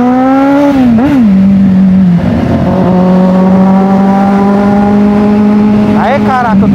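A 2014 Kawasaki Z800 motorcycle accelerates hard nearby, its engine note climbing and dropping between gears before settling into a loud, steady high drone and then revving up again, with a person talking over it.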